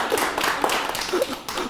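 Scattered clapping from a lecture audience, a fairly short burst of hand claps at moderate level with uneven rhythm, no voices standing out.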